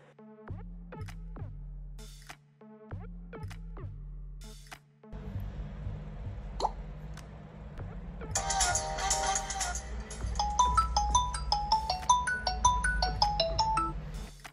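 Ringtone melodies from a repaired Xiaomi Note 8 Pro phone, starting with repeated short chimed phrases, then a brief pause, then a brighter, busier tune with a steady beat that grows louder toward the end.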